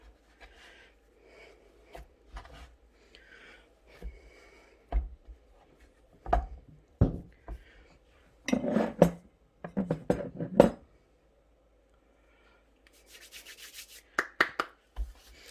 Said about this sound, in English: once we have this all kneaded